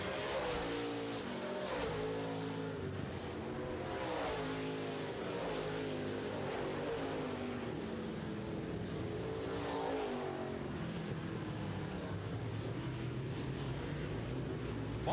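Late model race cars roar continuously around an oval track at night, a dense, steady engine drone with rising and falling revs as the pack passes.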